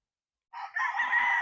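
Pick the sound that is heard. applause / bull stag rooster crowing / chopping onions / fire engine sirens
bull stag rooster crowing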